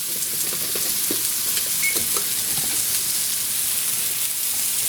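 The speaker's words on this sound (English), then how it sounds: "all we're doing right now is just waiting on the sausage to cook" Sausages sizzle steadily in a hot pan, a continuous crackling hiss with scattered small pops running evenly throughout, fairly close and with no talking.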